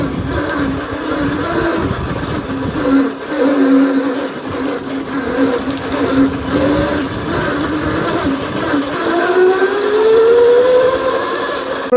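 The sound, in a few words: Ozotech Bheem electric scooter being ridden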